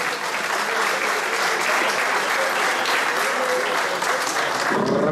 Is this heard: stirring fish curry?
no